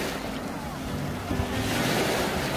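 Ocean surf rolls steadily onto the sand at Sokcho beach in Korea, a continuous near wash of waves with wind buffeting the microphone.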